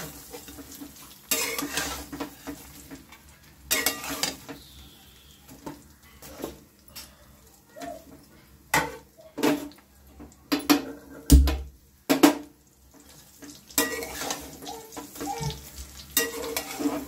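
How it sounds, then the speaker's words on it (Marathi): Tadka being stirred in a pan for rava besan idli: bursts of metal spoon scraping and clinking against the pan over a soft, steady sizzle, close and fairly loud, with no talking. "असा तडका छान पैकी असा द्यायचा बघा"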